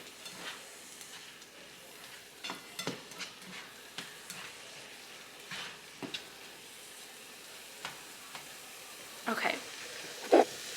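Fried rice sizzling in a pan as it is stirred, a soft steady hiss with scattered scraping and clinks, quiet and close, with faint voices in the background.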